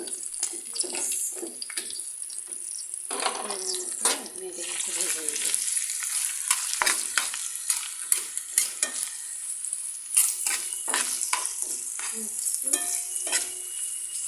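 Green chili paste and garlic sizzle and fry in oil in a pan, with scraping stirs and clattering utensil strokes breaking over a steady hiss, close and fairly loud with no talk.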